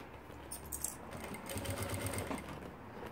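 A sewing machine stitching a short safety seam on a fabric organizer, a close, quiet rapid mechanical whirring that speeds up and runs steadily through the middle and end, with faint handling clicks.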